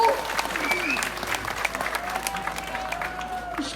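A crowd at an outdoor village religious gathering in Central Java claps together, a sustained, fairly loud spatter of hands with voices talking faintly underneath.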